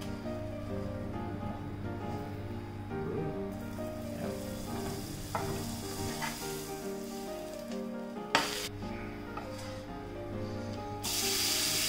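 Bacon frying in butter in a pot, a steady loud sizzle with spattering bursts and a brief sharper crackle near the end, over faint background music.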